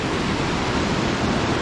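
Constant rushing wash of a crystal-clear mountain stream flowing below a suspension bridge in Bomborait, Kalash valley, loud and unbroken with no voices.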